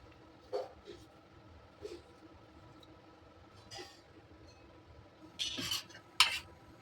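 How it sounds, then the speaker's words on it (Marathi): A knife cuts four potatoes into large pieces on a board. It makes a few sparse, separate knocks and scrapes, with a sharper cluster of chops near the end, against a quiet background. "4 बटाटे घेतलेत मी, मोठे कसे कट करते"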